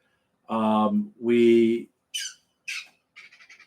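Birds squawk in a few loud, close, separate calls: two long harsh honking cries followed by shorter, higher squeaks and a quick chattering burst, against silence.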